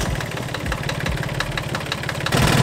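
A Volvo Penta MD2030 marine diesel engine runs at a steady idle after an oil filter change, its low throbbing rumble continuous and even, growing slightly louder near the end.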